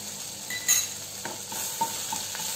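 Turmeric powder and ginger-garlic paste are stirred in a hot pan, a soft steady sizzle broken by a few scraping strokes and light spoon taps against the metal, close up with no talking.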